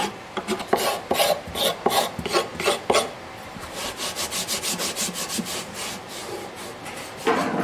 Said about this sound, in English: someone who wants to go to a bare neck like I use, I always use a scraper to do that